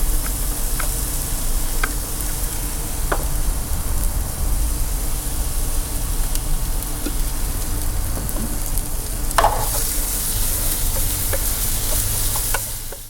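Garlic and onion sizzle in olive oil for a sauce to go with steak, giving a loud, dense, rain-like crackle that runs steadily throughout with a few light utensil clicks, with no talking.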